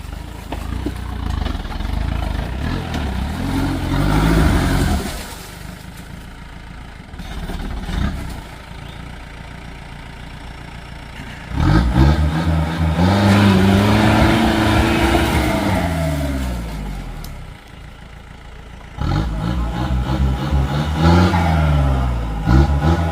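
A Toyota Fortuner SUV strains up an off-road test track, its engine revving hard in long rising and falling surges, dropping back toward idle between pushes, loud and close with no talk over it.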